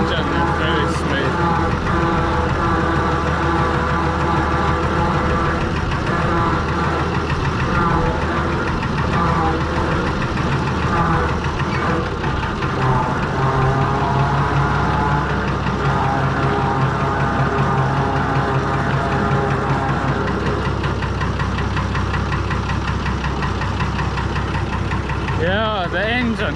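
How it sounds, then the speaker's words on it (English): A Fordson Major tractor with a Perkins straight-six engine runs smoothly and steadily close by, a continuous low mechanical drone with a people talking over it throughout. "the engine is very smooth"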